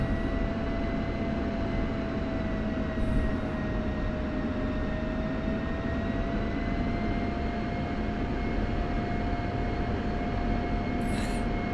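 An F-16 jet in the DCS flight simulator taxis toward the runway, its engine a steady loud whine with a droning tonal hum, continuous throughout with no voices.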